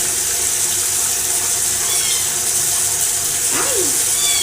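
Tap water runs steadily and loudly through a sink while fur kittens are bathed and shampooed, with a brief squeaky cry near the end.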